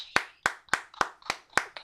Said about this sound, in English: I'm gonna clap for those folks.